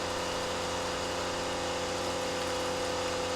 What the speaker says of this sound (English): Rinsing it off, and it looks like a lot more water than it actually is.